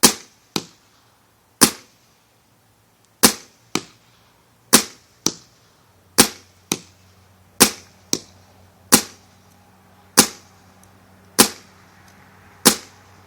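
A gun with the stock barrel is fired repeatedly in a comparison shoot, giving a series of about fifteen sharp, close, snappy shots at uneven intervals with quiet gaps between them.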